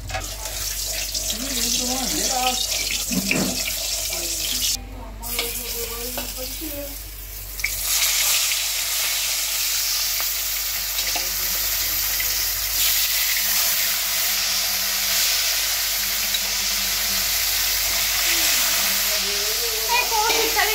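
Hot oil in a home kitchen wok gives a steady, loud hiss that starts abruptly around the midpoint and holds evenly to the end. Before it comes softer kitchen clatter and murmured voices.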